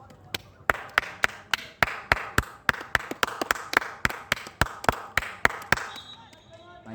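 One person claps alone, with about twenty sharp, evenly spaced claps in a steady rhythm, close and distinct. The clapping stops near the end, leaving a faint background tone.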